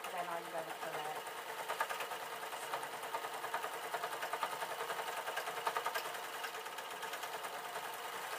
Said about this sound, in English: now I'm going to start sewing, and then when the teeth are the needles are actually piercing the elastic